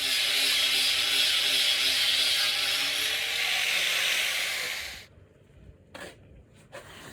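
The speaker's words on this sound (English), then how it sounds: "this grinder really helps to kind of get that last little layer of membrane off" A grinder works the last layer of membrane off an animal hide during home tanning, making a loud, steady abrasive whine for about five seconds before cutting off, followed by a few faint handling knocks.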